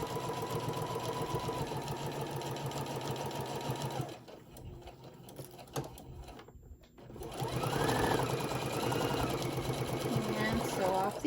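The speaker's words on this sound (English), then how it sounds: "we're going to get this second one sewed" A sewing machine stitches teddy bear ears in a craft workroom, a steady close whirring run that stops midway for a quiet pause, then resumes loudly to the end.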